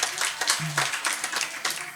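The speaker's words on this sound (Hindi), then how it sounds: "तालियां बजा दो माता जी के लिए" An audience applauding during a spiritual lecture, a short burst of scattered hand clapping from a crowd over about two seconds, with a faint voice in the background.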